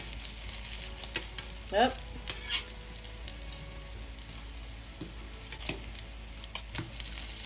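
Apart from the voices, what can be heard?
potato cakes frying in a pan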